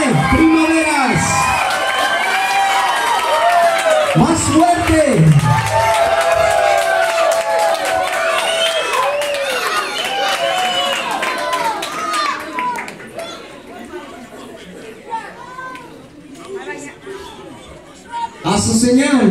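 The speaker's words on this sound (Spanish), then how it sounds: "Demos un fuerte aplauso a Carla Murillo." Guests at a quinceañera celebration applaud and cheer, dense clapping with whoops and shouts near and loud, a few voices calling out over it before the noise thins toward the end.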